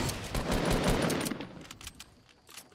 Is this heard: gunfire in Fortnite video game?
yes